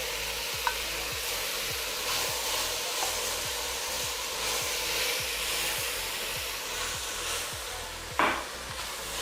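Garlic sizzles and fries in a hot pan for potato onion soup, a steady crackle with regular stirring scrapes every half second or so and one sharper clatter near the end.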